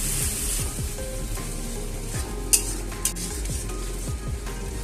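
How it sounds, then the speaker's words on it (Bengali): A dissolved spice mixture is stirred in a hot frying pan, a low steady sizzle with rhythmic scraping of a spoon against the pan and a couple of sharp metal clinks. "ওই গোলাটা আমি দিয়ে দিলাম। দিয়ে আমি একটু নেড়ে চেড়ে নিচ্ছি।"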